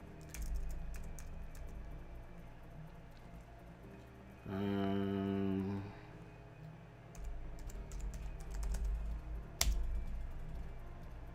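Typing on a computer keyboard at a desk, heard as a soft, irregular run of key clicks through most of the stretch, with a steady hum rising for about a second partway through.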